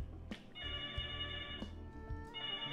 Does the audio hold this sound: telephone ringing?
yes